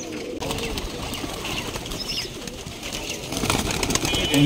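Pigeons coo in a pigeon loft, low and continuous, with rustling, a few wing flutters and scattered chirps, growing somewhat louder toward the end.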